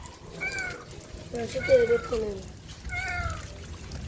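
A trapped kitten meows repeatedly in short, thin cries at close range, with dripping water and background voices around it.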